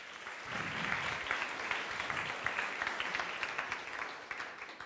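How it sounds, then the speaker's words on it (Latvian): Audience applause welcoming a speaker onto a Latvian talk stage, steady crowd clapping that builds slightly and continues evenly for about five seconds, with no talking over it. "Sagaidiet ar aplausiem,"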